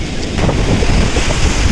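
Sea waves rush up a beach in a loud, continuous wash, with heavy wind roaring across the microphone close by and no voices.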